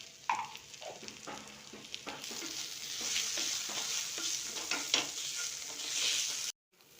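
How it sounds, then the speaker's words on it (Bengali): Ginger and chili powder stir and fry in a pan, with a steady close sizzle and the scrape and clink of a spoon moving through the spices. No voices, and it cuts off abruptly near the end. "আদাটা নেড়ে ছেড়ে নেওয়ার পর লঙ্কা গুঁড়ো দিয়ে দেবো"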